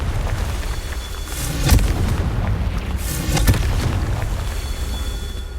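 Fiery Confringo spell blasts from the Hogwarts Legacy video game, two loud booming bursts a couple of seconds apart over a steady rumbling backdrop of game noise.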